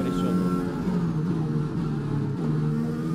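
On-board engine note of an F1 2021 race car in the video game, lapping the Australia circuit: a steady, loud droning whine with slight pitch shifts, continuous throughout with no pauses.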